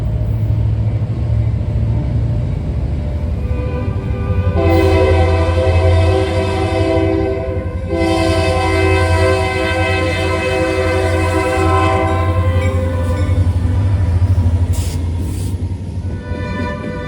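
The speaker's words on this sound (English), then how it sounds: "the southbound UP LVB 60 came through and the engineer turned the bell on for once" The southbound Union Pacific LVB 60 passes close by with a loud, continuous rumble, a strong sustained horn-like tone from about the fifth to the twelfth second, and its bell sounding.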